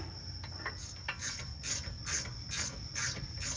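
A ratchet tightens brake caliper bolts on a 2015-2022 Ford Edge with electric calipers, giving a series of short, regular clicking rasps, close and fairly quiet, with no talking.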